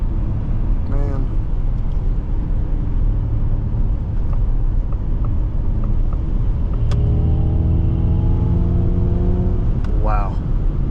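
Inside a 2025 Ford Mustang Mach-E GT electric car under hard acceleration, a constant road and tire rumble with a rising electric motor whine, and a person talking over it.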